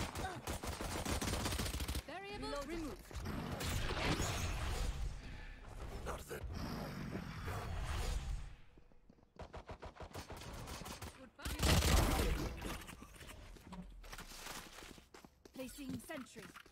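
Gunfire in a first-person shooter match: bursts of rapid shots and single cracks come in several clusters, mixed with footsteps and game noise, while a player talks over much of it.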